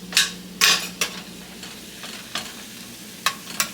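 Shrimp frying in spicy butter in a pan while being turned over, several sharp scraping and clattering strokes at irregular intervals above a steady sizzle, close up with no voices.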